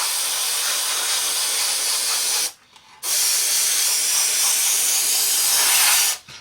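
An airbrush or spray can hisses while painting a scale model F-4 Phantom kit, close and steady, with a brief pause partway through before spraying resumes and then cuts off near the end.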